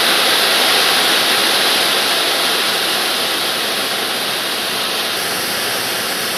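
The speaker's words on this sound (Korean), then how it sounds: "이제 휴양림 끝에 와 폭포를 지납니다" A waterfall in a mountain recreation forest roars loudly and steadily, a dense unbroken rush of falling water with no voices or other sounds over it.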